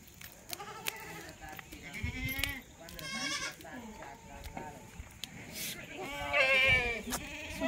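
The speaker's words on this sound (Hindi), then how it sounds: "बकरी चलो, बकरी चलो" Goats bleat repeatedly in a farmyard at milking time, several overlapping calls near and farther off, with people talking among them.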